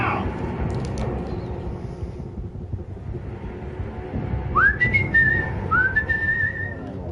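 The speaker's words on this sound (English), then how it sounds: "Can an android whistle?" A whistled tune from an android character in the video game Detroit: Become Human rises in short melodic phrases over a low rumbling game ambience, with no talk.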